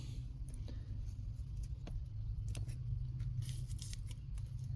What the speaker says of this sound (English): Now we're going to come in and trim them all off.